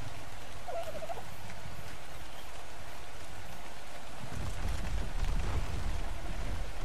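Bird call from a creature in the video game ARK Survival Evolved, a brief gobbling squawk early on, set against a steady rain-like hiss that grows louder near the end.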